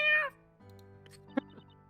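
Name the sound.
cat meowing, from video game Professor Layton vs Phoenix Wright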